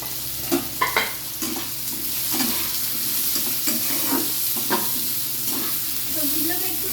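Vegetables and tomato fry in a pan for a baby's lentil khichuri, with a constant close sizzle broken by several sharp scraping stirs of a spoon against the pan.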